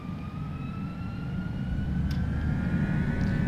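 An FSLabs A321 airliner in the Prepar3D flight simulator spools up for takeoff, a steady rising jet roar with whining tones that grows gradually louder, with no talking.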